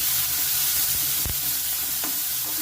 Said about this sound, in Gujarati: પછી તેને આપણે બે મિનિટ હલાવવાનું છે